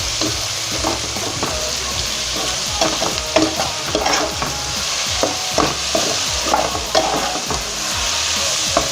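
Bodi, a long green bean, sizzles and fries in a pan while being stirred and turned, with steady frying hiss and repeated scraping clicks of the utensil throughout, close and fairly loud with no talk.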